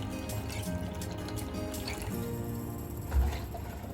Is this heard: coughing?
no